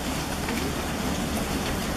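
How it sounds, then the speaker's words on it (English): Heavy rain pours down in a dense, steady hiss, loud and unbroken throughout, with no voices. "It is raining so freaking hard, dude."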